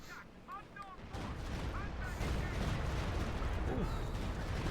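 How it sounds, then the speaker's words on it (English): Artillery shells pound away in a Company of Heroes 2 battle between the OKW and US Forces, a rumbling, rolling barrage of dull thuds that builds and thickens, with battlefield sounds mixed underneath. "Second barrage off here from Use-m426."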